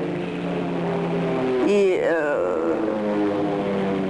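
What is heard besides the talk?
propeller aircraft flying overhead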